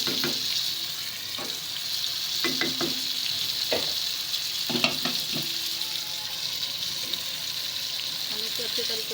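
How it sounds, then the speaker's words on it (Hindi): Tomato masala fries on full flame in a covered kadhai, giving a steady close sizzle with a few sharp clicks and knocks from stirring, while a voice talks faintly underneath. "हम इसको अच्छे तरीके से ढक देंगे ताकि टमाटर भी हमारे अच्छे से फ्राई हो जाए और मैश हो जाए"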